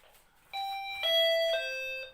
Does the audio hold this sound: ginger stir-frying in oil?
no